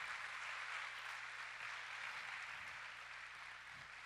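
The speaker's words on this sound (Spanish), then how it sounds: "Démosle un aplauso fuerte a Jesús" A church congregation gives a sustained round of applause for Jesus, a steady soft wash of clapping from a hall with a faint low hum underneath.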